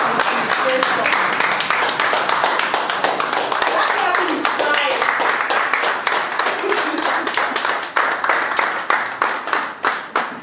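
An audience at a talk show claps for a guest, a dense steady round of applause that thins into scattered rhythmic hand claps near the end, with voices faintly mixed in.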